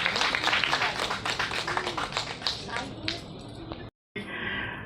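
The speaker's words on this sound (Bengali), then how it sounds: "জোরে হাততালি সকলে।" An audience claps at the opening of a short and documentary film festival, with dense patter under a talking voice, then a brief gap before the noise resumes.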